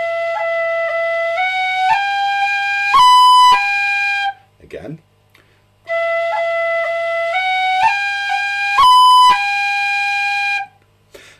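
Tin whistle playing the Irish tune The Dunmore Lasses with rolls and cuts, clear bright notes stepping upward in a short phrase played twice, with a brief spoken word in the gap between the two phrases.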